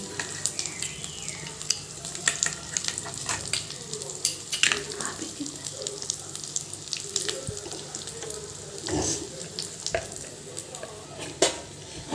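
Spinach and fenugreek tempering is stirred in hot oil in a pan, giving faint sizzling with scattered scraping and clinking spoon strokes at irregular intervals, fairly quiet and close.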